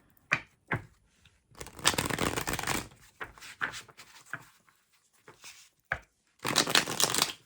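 Tarot cards are shuffled close up in several riffling bursts, with soft card taps and slides between them and no voices.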